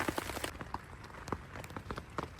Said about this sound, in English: Absolutely raining hard as well.